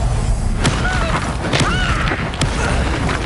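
Fire spell Incendio cast in Hogwarts Legacy: a few sharp, bright bursts land amid steady, busy game noise, each flaring briefly and fading without a clear rhythm.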